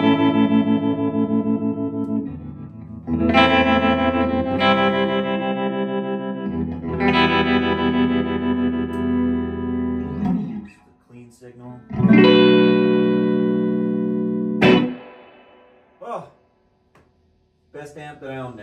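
Electric guitar played straight through a serviced 1971 Fender Deluxe Reverb amp, strummed chords ringing out with a warm, slightly shimmering tone, some swelling and some cut short, with gaps of silence between phrases.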